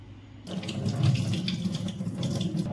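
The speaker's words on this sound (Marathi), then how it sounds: "आता आपण दोन ते तीन पाण्याने हे द्राक्ष स्वच्छ धुवून घेऊ" Grapes being rinsed under running water in a sink: a steady, moderately loud stream of splashing water starts abruptly and continues with small splashes and bumps, close by, with no talking.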